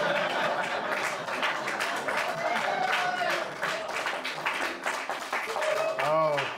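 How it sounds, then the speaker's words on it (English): Audience applause and cheering at a stand-up comedy show in North Hollywood, a dense steady wash of clapping with crowd noise running throughout, loud and close, with a few voices rising near the end. "people wanna applaud so bad"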